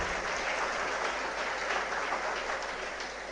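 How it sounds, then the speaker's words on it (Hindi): Steady, loud applause from an audience at a civil services success-tips seminar, a dense unbroken wash of clapping lasting the whole few seconds with no voices over it. "एक बार जोरदार तालियां बलदेव सर के लिए।"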